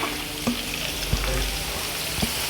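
Sliced onions frying with a pinch of salt in a pan with coconut, giving a steady close sizzle with occasional clinks of stirring.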